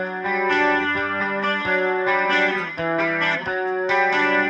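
An electric guitar plays a country riff, a steady sequence of clean, chorus-tinged notes and chords with slight grit, loud and upfront with no talking.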